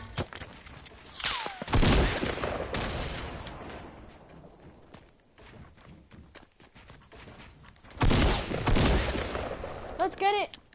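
Gunfire in a video game comes in two loud, dense bursts, early and late, with scattered quieter shots between and a person speaking over parts of it.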